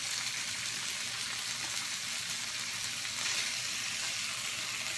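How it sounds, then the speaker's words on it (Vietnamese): Korean grilled dish pan-searing at home, giving a steady, soft crackling sizzle that runs evenly throughout at low volume with no talking. "Trong nhà ăn đồ chiên. Cái này là áp chảo."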